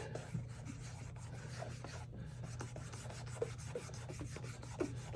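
Polish being rubbed by hand into a cordovan leather shoe, a quiet, close, continuous soft scrubbing with faint rhythmic strokes and small ticks, no voices.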